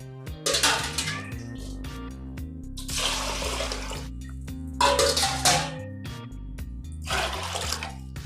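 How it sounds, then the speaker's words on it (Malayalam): Water poured into a pressure cooker over twice-washed rice, filled up to the level of the handles; several separate splashing pours against soft background music. "ഈ കാതിൻ്റെ അവിടത്തോളം വരെ വെള്ളം ഒഴിച്ച് കൊടുക്കണം."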